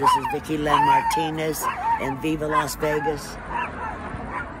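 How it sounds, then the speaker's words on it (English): A small dog barks in short, sharp, high yips outdoors near a library across the street, several bursts in quick succession, close and loud, with someone talking over and between them. "the little crazy dog that's my neighbor's dog that follows me everywhere because I feed it"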